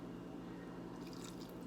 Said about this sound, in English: Add that little bit of pasta water in very slowly, okay?